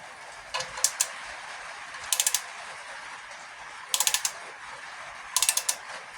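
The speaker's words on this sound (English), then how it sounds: "What's the torque supposed to be on that one, Luke?" A ratchet torque wrench clicks in short, quick bursts of three or four ratchet ticks while tightening bolts on a Classic Mini 998 engine, each burst separated by pauses, close and clear over a quiet workshop background.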